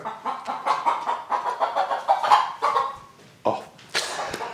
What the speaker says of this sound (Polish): No kura się zrobiła aktywna